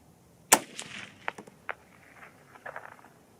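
A .243 Win. rifle firing factory ammunition: one sharp, moderately loud crack, followed by softer clicks and clatter that trail off.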